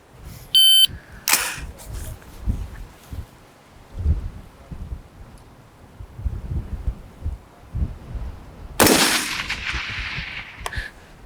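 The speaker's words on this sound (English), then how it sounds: "The time will start at the beep." At a 500-yard rifle shooting range, an electronic start beep sounds first, followed a few seconds later by a single sharp rifle shot, with soft rustling and handling noises in between.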